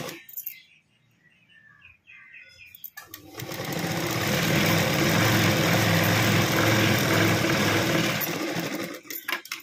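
A sewing machine stitches a princess-cut blouse, running loud and steady for about six seconds after a short quiet start with light handling sounds, then stopping near the end.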